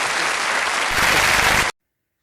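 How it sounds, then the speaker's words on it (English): Audience applause after Uri Geller's chair levitation act, a dense, loud burst of clapping from a crowd that carries on for under two seconds and then cuts off abruptly. "Please clap hands to them."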